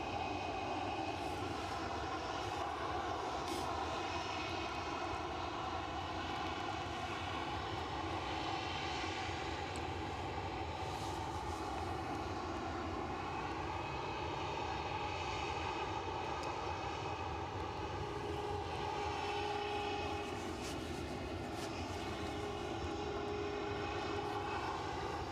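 A KLM Boeing 737-700 jet airliner at Edinburgh Airport produces a long, sustained engine roar laced with steady whining tones that shift slightly in pitch over nearly half a minute, heard alone without talk.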